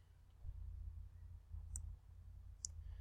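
Two crisp computer mouse clicks, a second or so apart, sharp and close against a quiet room hum.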